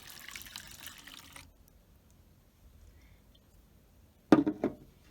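Hot water runs from a tap for about a second and a half, then quiet, before a short louder splash near the end.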